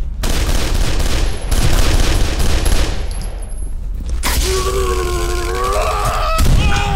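Rapid automatic gunfire from a game set in grim derelict buildings, a loud dense rattle of shots filling the first four seconds, then fading into ringing, whining tones and ambient noise.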